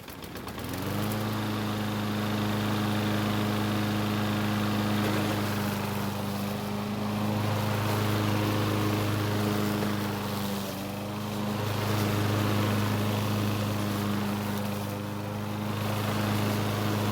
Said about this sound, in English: I guess I could try using the mower